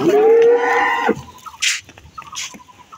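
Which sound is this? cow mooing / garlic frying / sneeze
cow mooing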